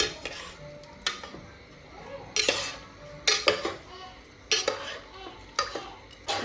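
A spoon scraping and clanking against a metal pot while chicken pulao is stirred with added salt, sharp irregular knocks repeating about once a second at close range.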